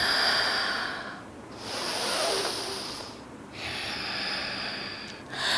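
Slow, deep breaths during a strong vinyasa yoga flow, a close, airy inhale and exhale cycle repeating in long waves with brief quiet gaps between, no talking.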